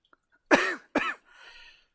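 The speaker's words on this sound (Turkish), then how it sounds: "Bugün bu belki beşinci öksürüşüm" Two sharp, close coughs in quick succession, followed by a softer breathy exhale.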